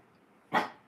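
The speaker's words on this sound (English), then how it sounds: "Oh, what are you whimpering about?" A dog gives one short whimpering yelp, a single brief burst against quiet room background.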